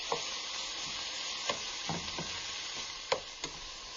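Meat sizzling steadily in a frying pan over medium heat while being browned, a constant bright frying hiss broken by several sharp clicks and scrapes of a utensil turning the pieces.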